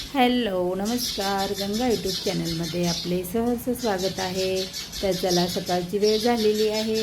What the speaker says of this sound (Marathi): चिमण्यांचा किलबिलाट चालू आहे ना